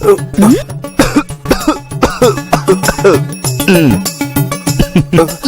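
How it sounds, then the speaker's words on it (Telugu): A voice puts on a series of exaggerated, deliberate coughs in quick rhythmic bursts, loud and close, mixed with throaty vocal sounds. "ఏంటి ఉత్తుత్తి దగ్గుతున్నావు?"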